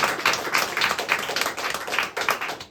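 A theatre crowd at a Kaamelott stage performance in Paris applauds steadily, many hands clapping in a thick, sustained patter with rhythmic surges, no voices over it.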